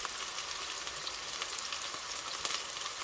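Salmon fries in a pan, a steady, even sizzle with fine crackling throughout, fairly soft and uninterrupted, no voices.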